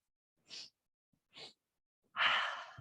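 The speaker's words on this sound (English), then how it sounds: "We do a little inhale here, the other inhale here, and an inhale here. So you're breaking your inhale down into 3 parts." Sharp nasal yoga breaths in a breath-of-joy sequence: two short separate sniffing inhales, then a longer, louder rushing exhale after a pause, close and alone with silence between.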